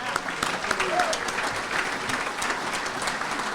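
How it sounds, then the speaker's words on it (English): Crowd applause at a local community gathering, a steady wash of many hands clapping at moderate distance, with a few voices and scattered whoops mixed in underneath. "And can I get a round of applause for Jim Tetro, please?"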